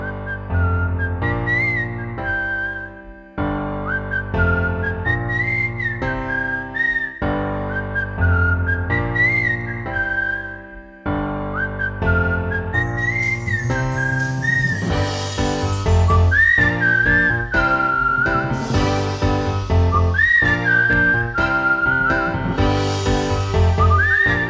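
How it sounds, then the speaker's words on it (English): A crowd of chefs whistling together at a flash mob launch event at Melrose Arch, with many loud, overlapping melodic whistles carrying a tune continuously, growing fuller and brighter in the second half. "Clover launched legions of whistling chefs across media and the cities of South Africa"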